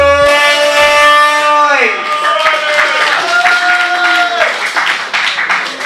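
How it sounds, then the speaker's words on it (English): Crowd applause and clapping break out at a Mayhem in Magnet press conference and fill the room loudly after an announcer's call. The clapping continues steadily in a dense wash. "give a huge round of applause. Please make some noise!"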